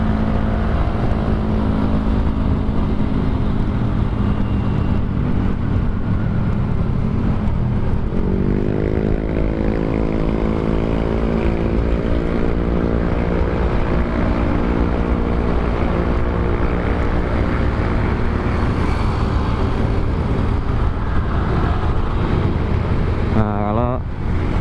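A Suzuki Smash 110 motorcycle engine runs steadily while riding on a city road in Klender, Jakarta, with a continuous loud hum and a rising pitch shift partway through as it speeds up, heavy wind rumble throughout.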